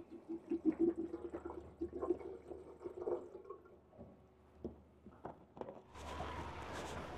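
Water pours into a kettle aboard a Quarken 35 boat: a run of small clinks and knocks gives way to a steady, rushing splash of water filling the kettle near the end.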